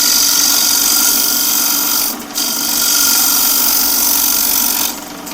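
A harsh, steady hiss of a negative rake scraper cutting spinning wood on a lathe, loud and close, with two brief pauses as the tool lifts off.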